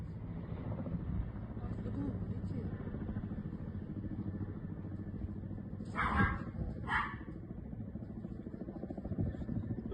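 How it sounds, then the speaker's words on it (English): Several small dogs yap in two quick bursts, Chihuahua-like and at mid distance, over the steady droning rumble of a Russian attack helicopter, with voices talking throughout. "It sounds like they have Chihuahuas here too, Ari."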